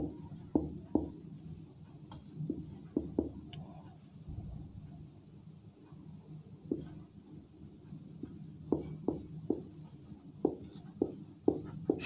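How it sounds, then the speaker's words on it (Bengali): A pen or chalk writes a sentence in short scratchy strokes, tapping and scraping in irregular clusters, fairly faint and close, with pauses between bursts. "আমরা বাক্যটি লিখি শুধুমাত্র"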